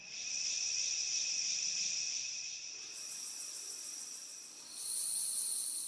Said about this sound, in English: Almost sounds like some crickets, some background ambience.